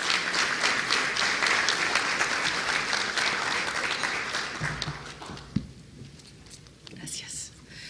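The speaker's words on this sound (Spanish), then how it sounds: "recibámosla con un caluroso aplauso" A panel audience gives the moderator a warm round of applause, steady clapping that tapers off after about five seconds, leaving quiet murmuring and a few stray sounds.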